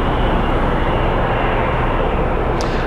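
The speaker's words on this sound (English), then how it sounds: "We can stay and watch a couple planes take off if you want." Broad, steady jet or aircraft engine roar at an airfield as planes take off, loud and continuous with no pauses and no talking.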